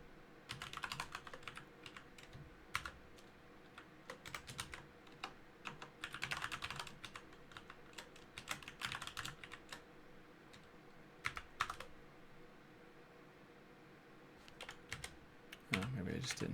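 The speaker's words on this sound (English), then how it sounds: "let's just type this over" Typing on a computer keyboard while working through a web hacking challenge, with bursts of rapid, fairly close keystrokes separated by pauses, over faint background noise and occasional light talk.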